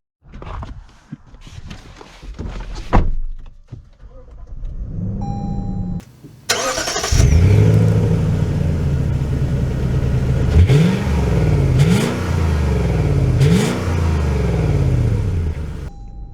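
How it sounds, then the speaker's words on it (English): A 2023 Lexus GX 460 Black Line SUV cranks and fires up after a few clicks and clunks, settles to idle, then revs through several rising gear pulls as it drives off, near and clear. "So setting off in the GX 460"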